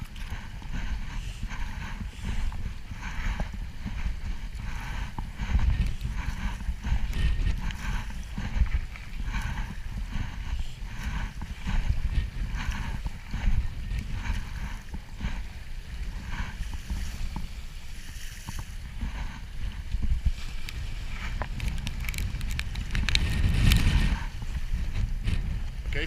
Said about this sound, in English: Okay, stop paddling.